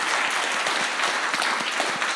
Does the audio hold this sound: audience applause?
yes